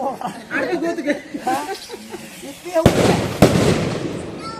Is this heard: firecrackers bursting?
yes